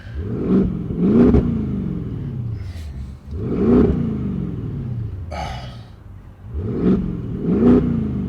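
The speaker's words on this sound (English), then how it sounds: "this is what it sounds like on the inside of the car" A loud, droning straight-piped exhaust rumble heard from inside an Audi S7 swells and ebbs as the engine revs repeatedly, close and boomy.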